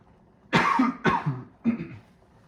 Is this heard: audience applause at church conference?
no